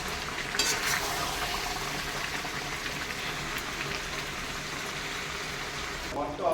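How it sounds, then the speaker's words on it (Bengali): Water poured into a cooking meat, papaya and potato curry makes a steady rushing, bubbling wash that fills the whole stretch, with a voice faintly underneath. "জল দিয়ে দেবো"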